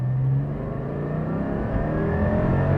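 A Porsche 718 GT4's engine revs up toward 6,200 RPM, a rising, strained mechanical howl climbing smoothly and steadily, loud and close from inside the car with no talking.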